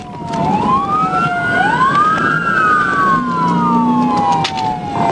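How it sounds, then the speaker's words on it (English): Several police sirens wail loudly and close by, their rising and falling tones overlapping, with a low vehicle rumble underneath. "I hear sirens"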